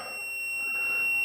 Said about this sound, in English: So you can hear it beeping.